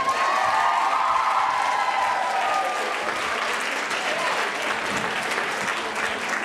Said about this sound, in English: go. Round of applause.